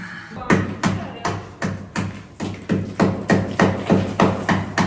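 Repeated hammer blows strike at a steady rhythm, about twelve sharp, loud, close impacts across the stretch with brief ringing between them, set in a home during a family Saturday.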